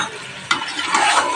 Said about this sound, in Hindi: यहाँ पे आपने भुनाई अच्छे तरीके से करनी है कि लहसुन अदरक का कच्चापन ख़त्म हो जाए